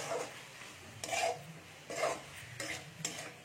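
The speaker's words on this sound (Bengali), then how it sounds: "এটাকে আমি একটু ভালো করে কষিয়ে নিচ্ছি।" A spiced mixture for potol alur torkari, a vegetarian pointed gourd and potato curry, is stirred and sautéed in a pan, with close, scraping strokes in a slow repeated rhythm, quiet, no voices.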